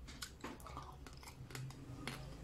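Someone chews crispy roast pork from a whole roasted pig close to the mic, with quiet, irregular crunchy bites and munching repeating throughout.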